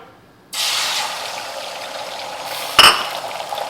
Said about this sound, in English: Pour in your egg mixture